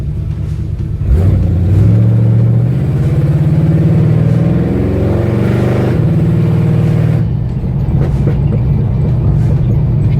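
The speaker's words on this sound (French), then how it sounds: "Petite accélération avec le mode manuel de la boîte auto." 1971 Chevelle V8 with its automatic gearbox in manual mode accelerating, a loud deep engine rumble that climbs in pitch through the rev range, shifts, and settles into a steady drone, heard close with no talk.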